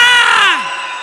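A church congregation lets out a single loud, sustained shout that swells and then fades away within about a second.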